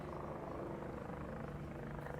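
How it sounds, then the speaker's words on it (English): A steady low rotor drone from helicopters over San Juan, Puerto Rico, continuous and fairly distant, with no voices. "There's lots of helicopters here."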